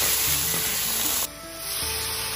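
Pork intestines tossed into a wok with garlic and seasoning in a little water, producing a loud, continuous sizzle with stirring scrapes; the sound briefly drops and then swells back.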